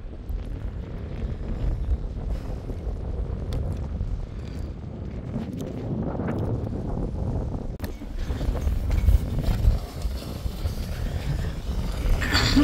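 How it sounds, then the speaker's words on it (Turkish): Wind buffets a sailboat out on the open ocean as a storm approaches, a steady loud rushing roar with low gusty rumbling, surging stronger near the end. "Ve hava şu an şöyle, rüzgar başladı."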